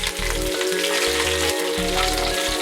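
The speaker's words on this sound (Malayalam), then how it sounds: "അതിൻ്റെ പിന്നാലെ കറിവേപ്പില ഇടുക." Curry leaves dropped into hot oil with mustard seeds for a Kerala breadfruit curry, hissing in a loud, continuous close-up sizzle, with a low humming tone underneath and no one talking.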